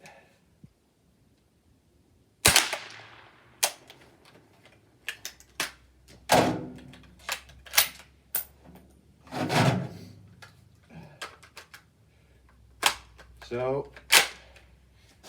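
Gunshots ring out at a public outdoor shooting range, several sharp close cracks spaced irregularly over some seconds with fainter distant shots between, while someone talks briefly.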